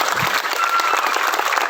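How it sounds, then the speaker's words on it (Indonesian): Crowd at a village football field event claps in a brief, dense burst, steady and fairly loud across the short moment. "Tepuk tangan dulu."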